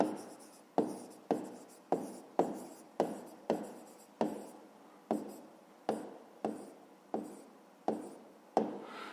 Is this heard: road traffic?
no